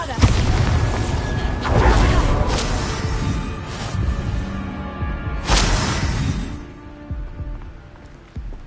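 Bombarda explosion spells from Hogwarts Legacy go off in a dense game battle, booming blasts and crashing bursts stacked over a constant rumble, with a sharp louder hit about two-thirds through before the din thins out.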